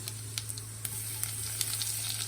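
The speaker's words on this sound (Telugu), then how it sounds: "ఆయిల్ వేడెక్కిన తర్వాత మనం ఈ దంచి పెట్టుకున్న వెల్లుల్లిపాయ ఉంది కదా కొంచెం జీలకర్ర వేద్దాము" Crushed garlic and cumin seeds sizzle steadily in hot oil, a close, continuous frying crackle with small pops and faint stirring, no voices.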